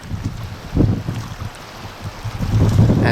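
Gusty wind beside a lake bay in North Lake, Ontario buffets the microphone in low, rumbling bursts, rising and falling irregularly, strongest toward the end.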